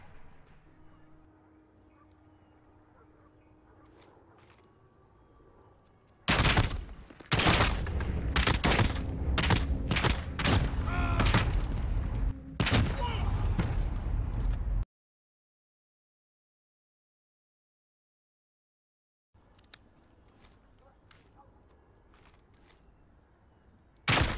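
Kilo 141 and M4A1 rifles in Modern Warfare fire rapid loud automatic bursts, close and dense for several seconds, then cut to silence before quieter game ambience returns.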